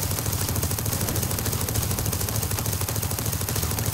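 Autocannon fire in the video game TerraTech hammers out as rapid, continuous automatic bursts, a dense rattling stream of shots at an even loud level with no pauses and no voices.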